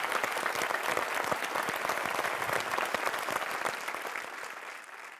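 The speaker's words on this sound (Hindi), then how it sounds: "एक बार फिर तालियों से सलाम करते हैं" An audience bursts into dense, continuous applause, loud and even throughout before easing slightly near the end, with no talking over it.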